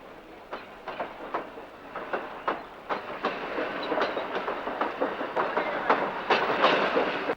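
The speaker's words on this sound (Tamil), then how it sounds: "ரயில் போயிட்டே இருக்கு, பாத்துக்கிட்டே இருக்கியே." A moving train clatters over the rails in a steady clickety-clack, wheel beats thudding at regular intervals and slowly growing louder, close by with no talk.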